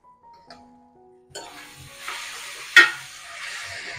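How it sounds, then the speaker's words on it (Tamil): Double beans sautéing in oil with tomatoes in a pan, a soft hiss that rises after a quiet start, with a sharp clink of a utensil partway through and gentle stirring noises. "இந்த எண்ணெயில் ஒரு 2 நிமிஷம் வதங்கட்டும்"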